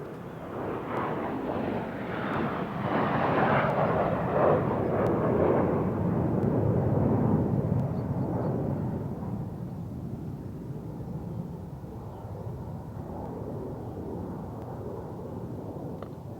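A Eurofighter Typhoon jet at the RAF Waddington airshow roars past in a broad, rumbling sweep that builds to a loud peak and then fades into a steady, distant drone, with no talk over it.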